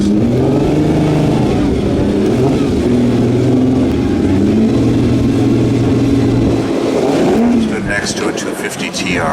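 Ferrari engines rev at the 2017 Concorso Italiano car show, a loud, rising and falling mid-pitched roar that holds steady for several seconds, with a voice talking over it.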